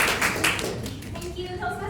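A few quick hand claps and taps at a Toastmasters meeting, brief and close, fading as voices and tonal sounds take over toward the end.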